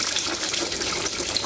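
Rusty coolant drains from a Triumph Spitfire engine into a drain pan, a steady, close splashing gush of liquid that runs continuously without a break.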